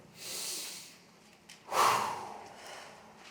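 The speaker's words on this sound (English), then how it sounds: "Take a deep breath in." A person draws a deep breath in: a soft airy breath first, then a stronger, louder inhalation through the nose that swells and slowly fades, close and alone in a quiet room.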